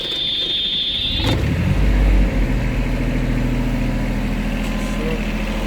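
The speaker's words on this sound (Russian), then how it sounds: "Запускается трактор, подается газ, там замок зажигания." Yanmar B12-2 mini excavator engine starting, catching at about one second and then settling into a steady low diesel idle, close and loud, with no talking.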